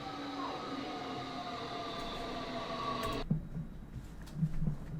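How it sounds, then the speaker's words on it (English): A London Underground Metropolitan line S Stock train in Train Simulator Classic, a steady motor whine and rumble with tonal hum that cuts off abruptly, followed by a quieter rumble with a few soft clunks. "Very fast Metropolitan line train to Watford"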